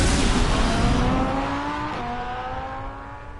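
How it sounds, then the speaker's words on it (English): A car engine in Batman: The Telltale Series revs high and then pulls away, its pitch gliding downward as the loud roar fades over a few seconds. "His car sounds like something from Too Fast Too Furious, the way he makes the sound."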